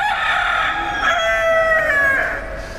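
Roosters crow with a long, ringing echo at a temple setting in Kuala Lumpur, with one drawn-out crow rising and falling over steady background noise and no voices.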